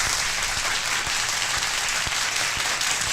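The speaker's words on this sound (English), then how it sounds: "Everyone give him a round of applause." A round of applause greets a celebrity guest during a live UFC fight-week stream, the clapping steady, dense and loud across the whole moment, with sharp individual claps cutting through a wash of crowd noise.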